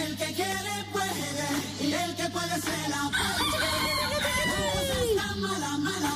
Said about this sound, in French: oui, il y a un coq.